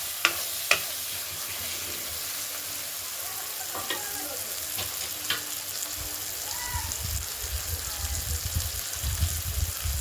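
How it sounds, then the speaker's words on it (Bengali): Spice masala sautés in a pan with a splash of water while cooking cauliflower and paneer, giving a steady close sizzle and crackle with a few sharp clinks of a stirring spoon early on. "এমনভাবে কষাবেন যাতে মশলাটা না পুড়ে যায়। এর জন্য সামান্য পরিমাণে একটা জল দিয়ে দেবো।"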